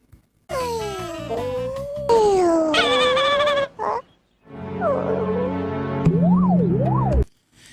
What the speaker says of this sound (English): It sounds more like a belly growl.